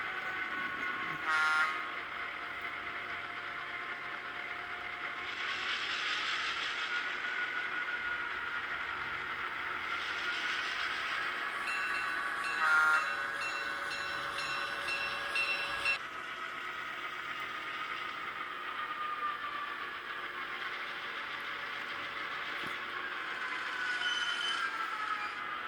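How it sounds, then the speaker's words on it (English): Kato N scale F3A model locomotive fitted with an ESU V5 micro sound decoder, playing a horn and running rumble that hold steady throughout, with a few short toots breaking in over the continuous engine drone. "This was ESU sound file SO711."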